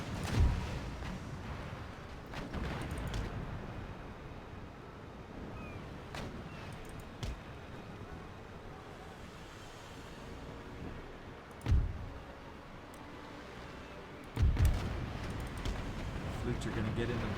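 Booming cannon fire from a naval battle in Empire Total War, with a few heavy, spaced blasts standing out over a steady low rumble of distant broadsides and battle noise.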